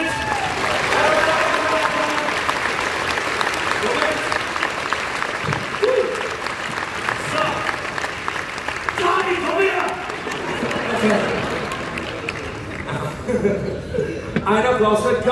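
Sustained audience applause at a Flic Flac circus show in Nuremberg, with scattered laughter and crowd murmur, loud and steady throughout, fading slightly toward the end.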